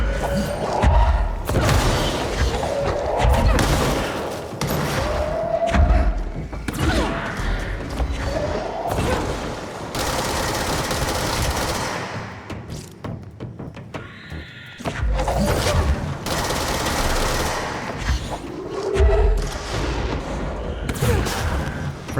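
Repeated heavy booms and thuds from rocket explosions in the video game Control, loud and close, striking in irregular bursts amid dense combat noise, with a brief lull before the blasts resume.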